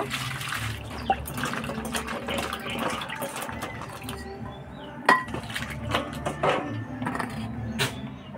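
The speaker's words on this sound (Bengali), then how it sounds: "পটলগুলো পরিষ্কার করে ধুয়ে নেব।" Pointed gourds (potol) being washed by hand in water, with steady splashing and sloshing and occasional clinks of a bowl or utensil, close by and continuous with no talk.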